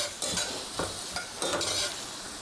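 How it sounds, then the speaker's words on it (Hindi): Chopped onions fry in hot oil with a steady close sizzle, broken by several louder scraping bursts as they are stirred around the pan. "इसमें डालने जा रही हूँ मैं कटी हुई प्याज"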